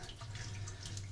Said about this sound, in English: it'll be time just to rinse her off